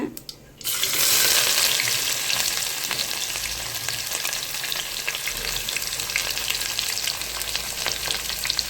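Onions and curry leaves frying in hot oil for vegetable biryani, a loud steady close sizzle that starts after a brief quiet moment and continues throughout with faint stirring.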